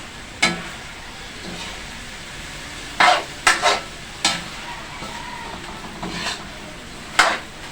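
Carrots and sweet potato stir-fried in a pan for Filipino vegetable spring rolls, with a quiet steady sizzle broken by sharp scraping clacks of the spatula against the pan at irregular intervals.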